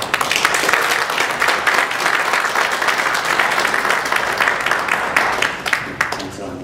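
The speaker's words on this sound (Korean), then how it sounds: "우리 힘찬 환영의 박수 보내주시기 바랍니다" A church congregation gives a hearty welcoming applause for a pastor at a worship service, continuous dense clapping from a large room that holds steady and eases slightly toward the end.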